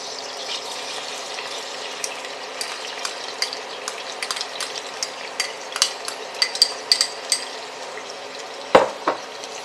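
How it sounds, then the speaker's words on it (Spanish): Chopped onion frying in hot fat for Cuban-style plantain fufu gives a steady sizzle, with stirring clinks and scrapes against the pan that build up toward a sharp knock near the end. "ya la grasa está caliente, así que vamos a comenzar a adicionarle la cebolla"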